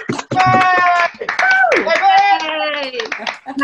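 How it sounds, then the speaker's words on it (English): Scattered clapping from participants of a virtual church choir on a video call follows a sung happy birthday, with the sharp claps mixed among several voices singing and calling out. "Round of applause."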